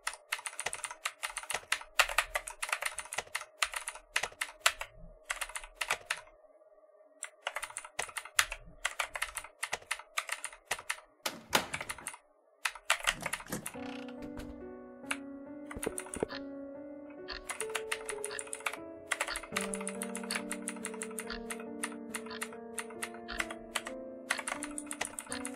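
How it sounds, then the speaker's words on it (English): Rapid clacking keystrokes on a computer keyboard, dense and close, during play of The Witch's House, with a pause midway and soft game music tones under the typing in the second half. "I literally just cannot take my hands off the keyboard"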